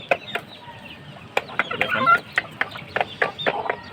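Several silver-coloured chickens clucking in short, irregular bursts close by, with sharper calls scattered through the middle and end; someone speaks briefly.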